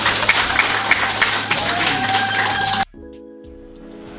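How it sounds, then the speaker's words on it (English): Audience applause following a presidential speech at a cabinet swearing-in ceremony in Malawi, a burst of clapping that cuts off abruptly about three seconds in, leaving a quieter tonal hum. "Another round of applause for His Excellency, please."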